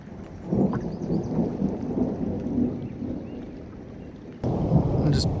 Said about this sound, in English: It's starting to rain on me.